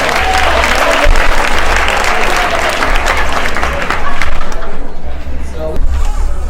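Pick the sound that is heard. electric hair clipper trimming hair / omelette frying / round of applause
round of applause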